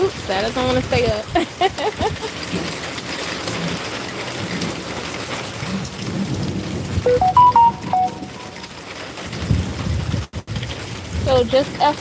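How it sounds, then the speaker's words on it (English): Steady rain falls on a windy garden in Georgia, a constant close patter with a brief low rumble of thunder, while someone talks over it now and then. "It's just a rainy day in Georgia."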